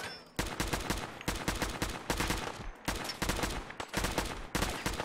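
Rapid bursts of gunfire in the video game Fallout 4, loud repeated volleys of shots in a quick uneven rhythm with short gaps between bursts, no voices over them.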